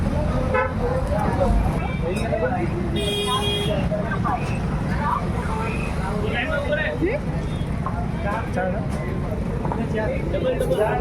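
Busy roadside traffic rumbles steadily, with large trucks and other vehicles passing and a short horn toot sounding partway through, while people talk nearby over the noise.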